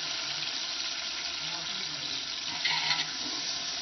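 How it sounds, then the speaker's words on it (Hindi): Water poured into a cooking pot of browned garlic and ginger while making soup, a steady splashing stream running under the whole stretch, swelling briefly near the end. "अभी थोड़ा सा पानी डालूंगी मैं इसमें।"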